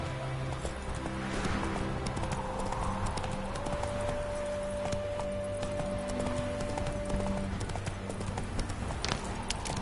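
A horse gallops along in The Witcher 3, its steady clip-clop of hooves running throughout with a whinny and ambient game sounds layered over it.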